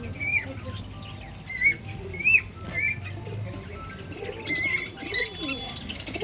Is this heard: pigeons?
yes